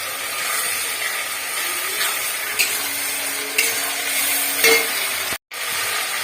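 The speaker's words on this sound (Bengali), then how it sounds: "টমেটো বাটা দিয়ে দিলাম, দিয়ে ভাজতে থাকবে।" Ground tomato paste fries in a pan, a steady close sizzle broken by occasional stirring scrapes and a brief silence near the end.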